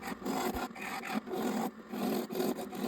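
A parting tool cuts into a spinning piece of Osage orange on a wood lathe, producing a steady, close, scraping hiss with brief dips as the tool is eased off and pressed back in.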